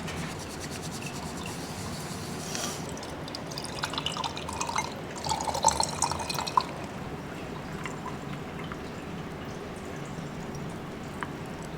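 Oat milk pours into sifted matcha powder, a soft, faint liquid trickle and splash that swells briefly midway through a steady indoor hiss.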